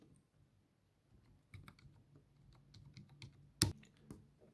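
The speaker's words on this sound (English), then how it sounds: "So I'm coming to type his name." Keys clatter in short irregular bursts as a name is typed on a computer keyboard during video title editing, with one louder sharp tap near the end; quiet and close, with no talking.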